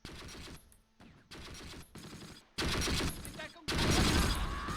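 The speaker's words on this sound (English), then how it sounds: "What is shooting with a machine gun?" Machine gun fire in the Close Combat war game comes in several sharp bursts of rapid shots, with short gaps between them and the later bursts growing louder.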